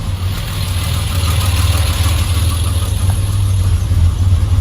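A rebuilt 1973 Triumph TR6 engine idles steadily and close, a continuous low rumbling drone with an even pulse and no break, loud and alone.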